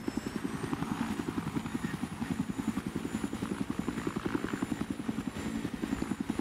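A helicopter in the video game Battlefield 3, its rotor chopping in a fast, steady rhythmic thump, loud and close, continuing without a break over a low engine whine.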